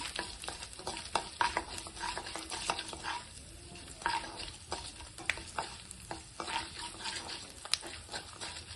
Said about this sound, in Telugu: ఇప్పుడు అవి కొంచెం చిటపట కాలిందాక మనం వేస్తున్నాం